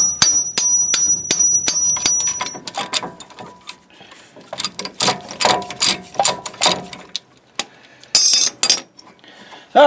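Repeated gentle metal hammer taps on an 18 mm brake caliper bolt during front brake work on a 2014 GMC Sierra / Chevy Silverado truck, with sharp ringing metallic strikes in an uneven series, close and fairly loud.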